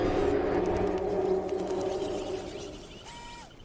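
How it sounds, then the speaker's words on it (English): A T-Rex roar from the video game PUBG Mobile: a loud, low, tonal bellow that slowly fades over about three seconds, ending with a brief higher sweeping tone. "That's the sound of the mighty T-Rex."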